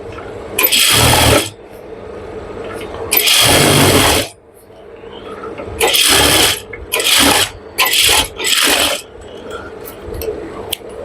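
Sewing machine stitches elastic into pajama fabric in several loud, close bursts of whirring, two long runs and then shorter stop-start spurts, with quiet handling between them.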